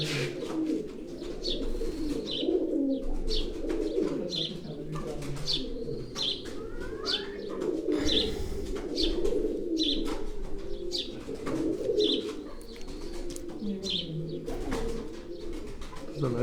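Racing pigeons coo repeatedly in soft, low rolling calls, with sharper chirps from other birds scattered over the top.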